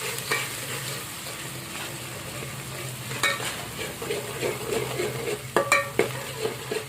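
Chopped onion and green chili fry in a pan for tomato rice, making a quiet, steady sizzle. Occasional light utensil clinks and stirring taps grow busier toward the end, with no talk.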